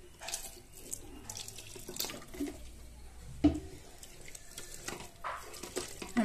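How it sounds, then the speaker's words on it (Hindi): Water poured into a pot of chana dal, potato and soybean curry in a home kitchen, a soft running splash with brief drips and clinks at close range. "तो इसमें थोड़ा सा पानी हम और ऐड करेंगे।"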